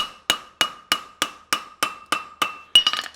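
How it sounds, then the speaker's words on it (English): A blacksmith's hammer strikes an anvil while forging a caulk and feather horseshoe, giving ten crisp, ringing blows at a steady, even rhythm, close and loud with no talking. The last strike rings a little brighter and is followed by a quick rattle. "My hammer blow is not leaving the face of the anvil very far, but it's a very firm blow that gives you a polish"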